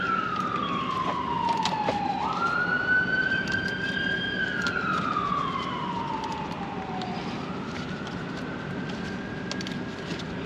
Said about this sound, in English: there's a siren going somewhere